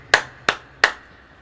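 Three sharp hand claps, evenly spaced about a third of a second apart, close and distinct against a quiet background, during a church sermon.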